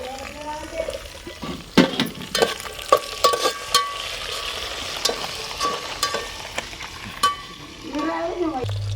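Green chilies frying and being stirred in a pan for tomato peanut chutney, with irregular scraping clinks and crackles over a soft sizzle, and a voice speaking at times.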